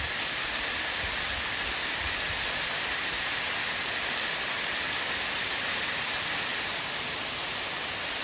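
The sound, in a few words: waterfall after heavy rain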